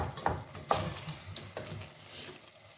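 Tomatoes cook down in a pan with a faint, soft sizzle, broken by a few light stirring clinks and scrapes.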